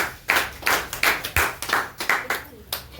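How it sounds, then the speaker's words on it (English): Students in a spoken English class clap in uneven bursts, roughly eight or nine sharp bunched claps over a few seconds, close and fairly loud, with a faint voice underneath. "Please clap for them."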